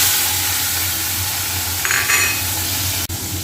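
Whole spices, cumin and garam masala, hit hot oil with a steady crackling sizzle, a brief metallic clink midway, then an abrupt stop near the end.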